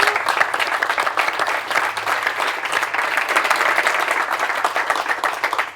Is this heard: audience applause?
yes